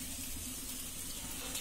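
Fish frying in oil over a medium-high flame, a steady, dense hiss of sizzling oil heard close and fairly quiet, unbroken across the short stretch, with no voices.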